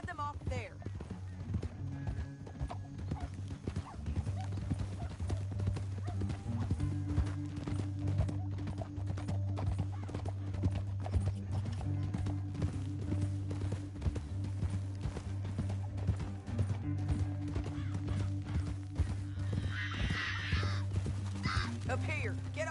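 Horses in Red Dead Redemption 2 gallop steadily in a canyon, a continuous clip-clop of hooves over a low droning hum, with a brief rustle near the end.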